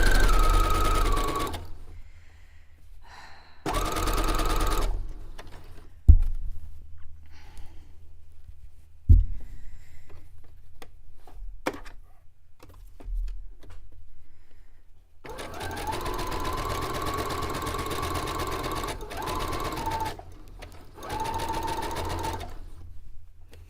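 A sewing machine stitches pajama pants in several loud whirring bursts of steady motor hum, separated by quieter pauses with small handling clicks and a thump as the fabric is adjusted.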